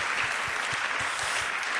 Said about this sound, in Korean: 저기 앉아 계시는 우리 박수로 한번 환영하겠습니다